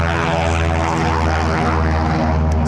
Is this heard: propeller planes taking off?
yes